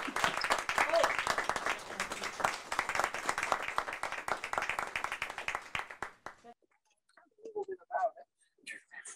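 Applause from a crowd gathered outdoors at a ribbon cutting ceremony beside a canal towpath, steady dense clapping for about six seconds before it dies away, followed by a few scattered voices.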